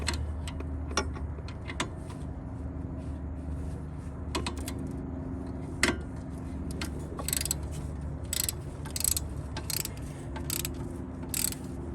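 A ratchet tightens a bolt on the rear hub of a 2016-2019 Kia Sorento AWD during a hub, rotor and brake job, giving scattered sharp clicks and short bursts of rapid ratcheting over a steady low shop hum.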